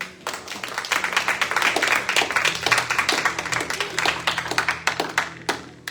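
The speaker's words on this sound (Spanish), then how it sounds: "Denle un aplauso al Señor" A church congregation claps together in steady, dense applause that continues for about six seconds at a strong, even level before cutting off abruptly at the end.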